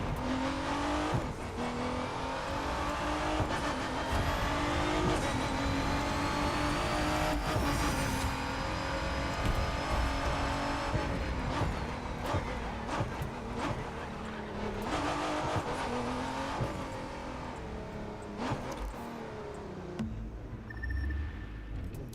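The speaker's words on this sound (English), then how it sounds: "I can like drift the car" A 2017 Ford GT drifts in the racing game The Crew 2, its engine revving up and down steadily with tire squeal and skidding through turns, loud and continuous with no voices.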